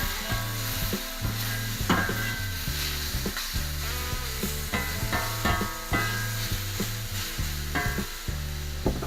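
Steak strips sizzle and fry on a steel plancha for Philly cheese steak, a continuous crackling hiss broken by repeated scraping and stirring strokes of a spatula against the metal, close and steady.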